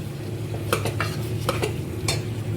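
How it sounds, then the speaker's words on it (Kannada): Close stirring of ghee-roasted poppy seeds into hayagriva over a low flame, several distinct scrapes of a spoon against the pan over a soft continuous sizzle, no voices. "ಗಸಗಸೆ ತುಪ್ಪದಲ್ಲಿ ಹುರಿದಿರೋದು ಹಾಕೊಂಡು ಸ್ವಲ್ಪ ಮಿಕ್ಸ್ ಮಾಡೋಣ"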